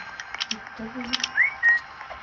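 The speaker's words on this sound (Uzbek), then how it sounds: "44 marta hushtak chalibman" A short rising whistle followed by a brief steady whistle tone, heard among faint background game noise.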